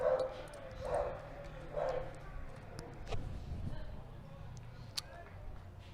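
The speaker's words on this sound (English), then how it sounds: "Dog started barking as the pitch came in." A dog barks during a high school baseball game between Chatham Glenwood and Edwardsville, a few yaps near the start amid crowd murmur and ambient field noise, fairly distant and modest in level.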